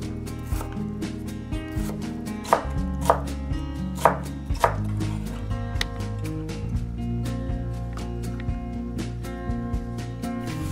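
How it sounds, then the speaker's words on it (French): A knife slices finely through a bell pepper and then dices it into small cubes on a cutting board, giving steady close chopping taps with a few sharper knocks, no voices. "Je tranche finement le poivron, puis je le coupe en petits cubes."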